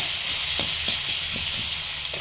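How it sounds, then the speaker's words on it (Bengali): Chopped onion fries in mustard oil with dried chilli, bay leaf and five-spice, giving a steady, loud, close hiss of sizzling with a few soft clicks from stirring. "পেঁয়াজ কুচিটা একটু লাল লাল করে ভেজে নেবো"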